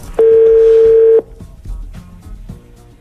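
A radio morning show carries a single loud, clean telephone keypad tone lasting about a second, followed by quieter, muffled clicks and line noise.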